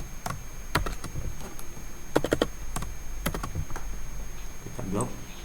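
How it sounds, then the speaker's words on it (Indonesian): A computer keyboard clatters as an Excel formula is typed, with short irregular bursts of close keystrokes and some loud clustered taps, under a speaking voice. "untuk rata-rata kita ketik sama dengan average"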